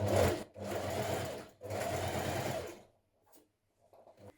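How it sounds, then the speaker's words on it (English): A sewing machine top stitching a trouser pocket runs in two close, steady bursts with a short pause between them, then stops, leaving a few faint handling clicks. "you're going to top stitch that 7mm in."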